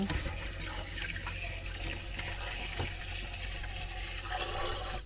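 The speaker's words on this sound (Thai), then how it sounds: "อันนี้คือปลาร้านะ เราจะล้างก่อนนะคะ นิดนึง" Norwegian fermented fish is rinsed under a running tap, with a steady wash of water and spray over a sink that continues throughout, and small splashes and clinks come and go.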